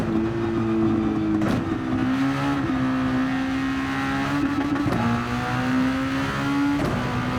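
A race car engine in Gran Turismo 7 drones loudly and steadily through the whole stretch, its pitch climbing through each gear before dropping sharply at several shifts, with no talking.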